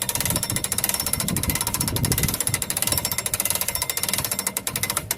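A hand-cranked boat trailer winch winds its strap back in, giving a fast, steady ratcheting clatter of pawl clicks throughout, loud and close with no talk.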